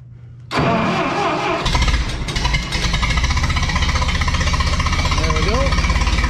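A Minneapolis Moline tractor engine cranks on the starter and catches, settling into a loud, rough, pulsing idle close by, with a voice speaking over it.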